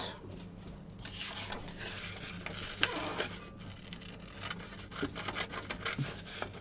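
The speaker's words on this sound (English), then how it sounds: "And I'm going to cut this one out." Scissors snip out a stamped paper piece with tiny lettering from a craft stamp set, making quiet, close scraping cuts and paper rustles in an uneven rhythm.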